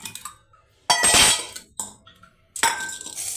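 Mixed dry pulses are poured together into a cooking vessel, giving three separate bursts of rattling, clinking grains close by, with short quiet gaps between them.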